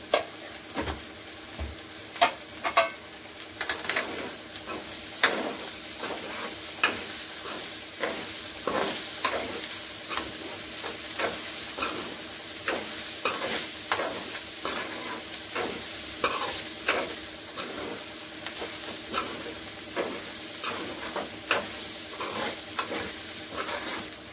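Masala for a godu chikkudukaya (broad bean) curry sizzles steadily in a pan while being stirred, with frequent scraping clicks of the spoon against the metal at close range and no talk.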